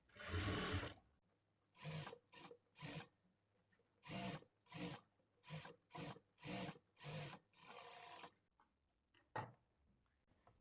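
A sewing machine stitches a lining blouse in repeated short bursts of rapid mechanical chatter, close by, with gaps between runs and one longer final pass.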